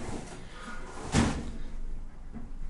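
A soft-close pots and pans drawer in a 2023 Crusader 260RDD RV kitchen glides shut with one muffled thump, then settles quietly against low room noise.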